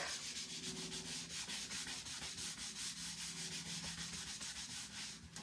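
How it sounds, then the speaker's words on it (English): Finish being rubbed in and buffed on a wooden board with steady, rapid back-and-forth scrubbing strokes, close and even in rhythm, continuing without pause and with no one speaking. "So you want to rub it in and buff it back."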